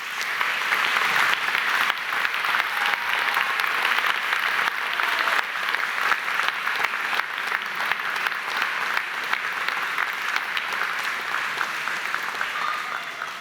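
A large audience at a graduation ceremony claps steadily and densely. The applause is even and sustained throughout, close and full, with no voices over it.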